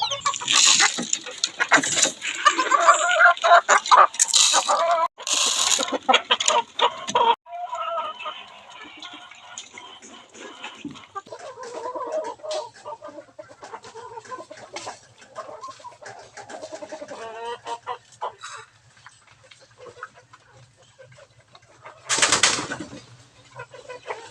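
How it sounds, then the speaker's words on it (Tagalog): Banabong chickens cluck and squawk close by at morning feeding, with bursts of wing flapping, the noise busiest early and tapering to scattered calls over a low hum. "Tapos na po akong nagpapakain sa ating mga alagang banabong na manok."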